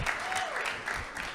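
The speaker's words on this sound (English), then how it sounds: "I think you deserve a round of applause for yourselves" Audience at a provincial Rocket League esports championship gives a short burst of applause for the teams, moderately loud clapping mixed with a voice speaking over it.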